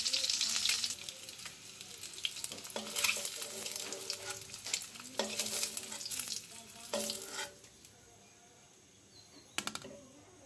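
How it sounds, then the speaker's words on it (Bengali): Boiled eggs frying in oil with a pinch of salt, alongside small new potatoes, crackle in a steady sizzle broken by repeated stirring scrapes, loud and close with no talking, quieting near the end before a few final clatters. "সেই তেলের মধ্যে আমি এখন সিদ্ধ ডিমগুলো ভেজে নেব।"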